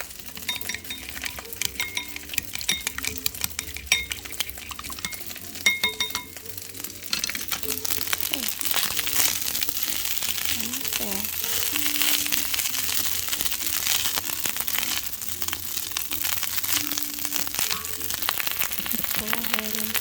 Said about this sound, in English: Go ahead and add the egg. I'm going to scramble that up.